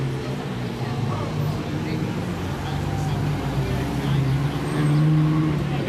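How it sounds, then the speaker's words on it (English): Ferrari sports cars rolling in on a summer day, a steady low engine rumble swelling slightly near the end, with someone speaking over it. "Ferraris. They're all rolling in now."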